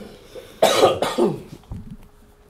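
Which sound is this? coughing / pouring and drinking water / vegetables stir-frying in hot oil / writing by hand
coughing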